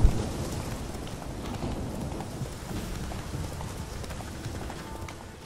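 A horse gallops through rainfall in the video game The Witcher 3, with rhythmic hoofbeats over a constant hiss of rain and a low rumbling bed, fairly loud and continuous.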